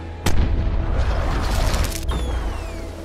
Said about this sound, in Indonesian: Tanpa pandang bulu, dia menembakkan meriam, membuat Po dan kawan-kawan terpental ke sungai bersama serigala yang lain.